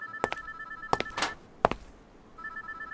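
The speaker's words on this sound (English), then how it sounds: "maybe we should just pick the phone so it to stop ringing" A payphone in a phone booth rings in an electronic trill, three separate bursts spaced across a few seconds, fairly close and clear, with no talking over it.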